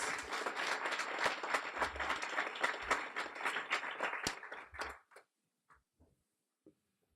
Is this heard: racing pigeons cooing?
no